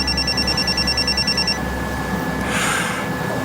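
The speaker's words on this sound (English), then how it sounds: "You should answer your phone." A telephone rings with a rapid, trilling electronic ring for about a second and a half, then stops, leaving a low background hum.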